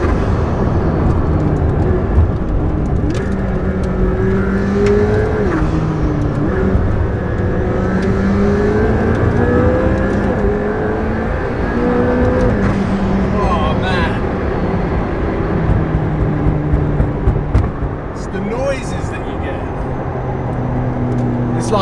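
A McLaren P1 supercar engine droning and revving while being driven, a loud steady roar with rising and falling pitch inside the cabin, heard under someone talking throughout.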